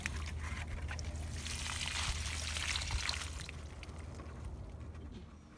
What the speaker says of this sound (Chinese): 浇水。